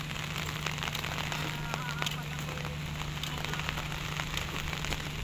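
Rain falls steadily in the mountains in the Philippines, a dense, even patter with a low hum beneath and faint voices at moments.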